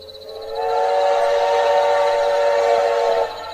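Animated train pulling into a lonely village station, its steam whistle sounding one long, bright, sustained blast for about three seconds before cutting off, over a low rolling rumble.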